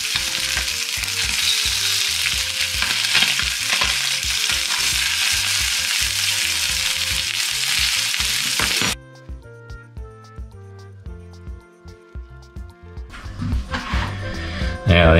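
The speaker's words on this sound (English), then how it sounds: "I've just fried off the salmon fillets." Salmon fillets fry in a pan with a loud, dense sizzle for about nine seconds, then the frying stops abruptly and music takes over.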